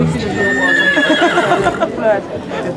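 An Estonian heavy draft horse gives a loud, close neigh, a long quavering whinny that rises and falls over a few seconds.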